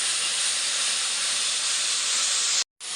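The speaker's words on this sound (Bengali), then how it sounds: "জিরে ধনে বাটা সব দিয়ে এখন এটা কষাচ্ছি, আর কষানো প্রায় হয়েই গেছে।" An onion, ginger and garlic paste with ground cumin and coriander sautés in a hot pan, giving a loud, steady, close hiss that cuts off abruptly just before the end.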